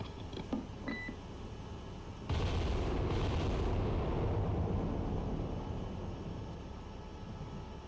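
A battleship gun battery fires in the Cold Waters naval game. A few faint beeps come first, then one sudden heavy boom swells into a long, rolling rumble that slowly fades. The blast is loud and sounds far off, with no voices.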